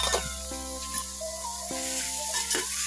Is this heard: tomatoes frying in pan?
yes